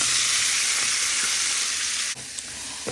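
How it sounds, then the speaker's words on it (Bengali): Sliced onions poured into hot oil already used for frying fish sizzle loudly and steadily in a pan, a dense continuous hiss with a brief stir partway through and no talk. "এখন সেম তেলে আমি পেঁয়াজগুলো ঢেলে দিচ্ছি"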